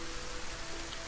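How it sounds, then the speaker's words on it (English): Rain falling in the Solarpunk survival game, a cozy open-world setting: a soft, steady, even wash of rainfall noise, continuous and fairly quiet, with no talk. "Hopefully you guys can hear the rain."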